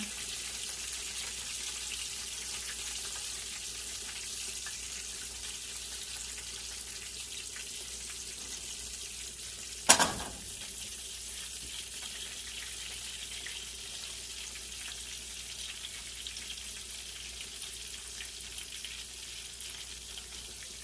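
Chicken pieces fry in a covered pan with a steady, even sizzle throughout, broken once near the middle by a brief sharp clatter.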